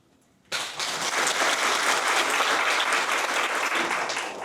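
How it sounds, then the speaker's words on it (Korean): An audience at a university college's 50th-anniversary ceremony breaks into applause after a moment of quiet. The clapping is sustained and full, a dense steady roar of many hands that fills the hall. "큰 박수로 모시겠습니다"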